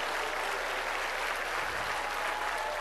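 Church congregation applauding during a sermon, a steady dense wash of clapping that fills the whole stretch at moderate level with no voices over it.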